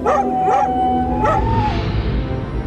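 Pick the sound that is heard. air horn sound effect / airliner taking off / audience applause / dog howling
dog howling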